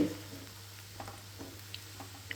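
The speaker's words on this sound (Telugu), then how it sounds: "కొంచెం ఫ్రై అయ్యే వరకు వెయిట్ చేద్దాం" Cornflour and spring onion pakodi fry in hot oil with a soft, steady sizzle, broken by a few faint clicks and stirs, heard alone without talk.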